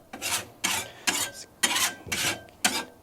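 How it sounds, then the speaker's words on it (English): A charcoal grill grate is scraped clean, six loud rasping strokes in a steady back-and-forth rhythm, close up with nothing else over them. "Get a little scrape there."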